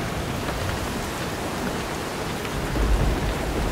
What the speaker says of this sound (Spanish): Tormenta, de repente, ¿eh?